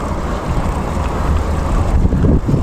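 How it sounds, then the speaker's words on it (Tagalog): Strong wind buffets a small fishing boat heading out to sea, a steady loud roar of gusts and rushing air across the microphone with low engine and water rumble underneath, no speech. "Medyo lakas ang hangin"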